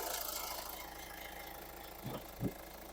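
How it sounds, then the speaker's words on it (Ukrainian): A 2010 Hyundai ix35 diesel engine idles steadily under the open hood with a low, even rumble heard up close, with a couple of faint knocks near the end. "двигун працює рівненько"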